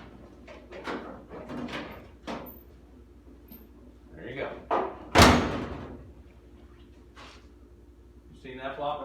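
A car door latches shut on a 1983 Chevrolet Malibu two-door wagon, giving one sharp, solid thump at close range in the middle of scattered handling noises, with someone speaking briefly before and after.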